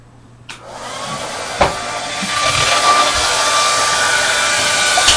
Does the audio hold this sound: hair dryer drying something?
yes